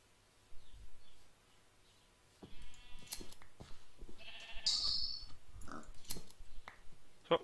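Sheep in the Minecraft survival game bleat faintly amid quiet game sounds, with a few brief bleats scattered across the stretch and no talking.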